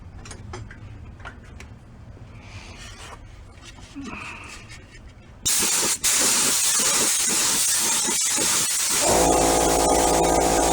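A spray can hisses loudly and steadily as a coat of paint goes onto a Camco snare drum shell during restoration, starting abruptly midway after quieter handling noises and continuing to the end.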